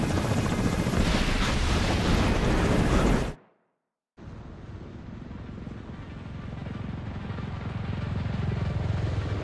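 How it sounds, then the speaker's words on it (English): A loud sustained roaring rumble from an explosion in The Division game, cut to sudden silence for a moment, then a quieter rushing blast that swells back up steadily. "Explosion? What the hell?"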